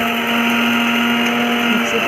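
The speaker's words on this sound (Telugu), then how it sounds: "ఈ మిక్సీ పట్టు కూడా" A kitchen mixer grinder runs steadily at high speed, giving a loud continuous whirring motor drone with a strong steady hum and no pauses.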